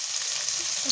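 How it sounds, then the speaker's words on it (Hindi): Onion frying in a pan for egg keema masala, a steady close sizzle with a faint crackle, brief and unbroken, with no talk over it. "प्याज को भल भाव भाजीदबा"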